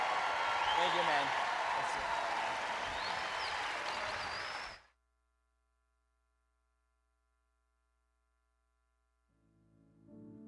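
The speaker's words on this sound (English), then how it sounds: "Let's give him one more round of applause, standing ovation." A crowd at the 2021 Pelotonia opening ceremony applauds and stands in ovation for a silver medalist, a dense wash of clapping for nearly five seconds that cuts off abruptly into silence before faint sound returns.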